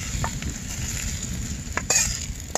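Okra fries in oil in a pan with a steady sizzle, broken by a few scraping strokes of a spatula stirring it, close and without speech.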